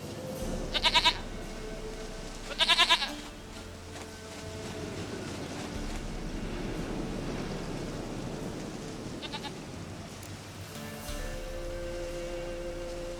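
A goat in The Witcher 3 video game gives two short, sharp bleats in quick succession, then a quieter one later, over a soft continuous ambient background with a low steady hum.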